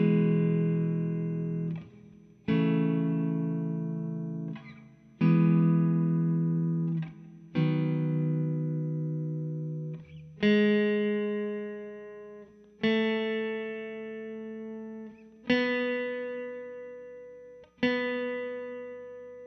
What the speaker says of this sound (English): we're just playing chords